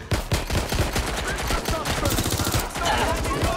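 Rapid MP5 submachine gun fire in Watch Dogs Legion, a steady burst of closely spaced shots running loud and continuous for several seconds.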